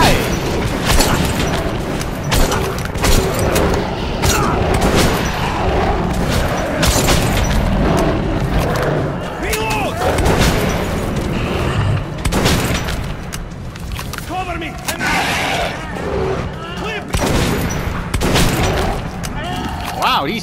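Enemies open fire in Metro 2033 Redux, a dense, continuous barrage of gunshots and booming impacts filling the whole stretch, loud and close, with no speech over it.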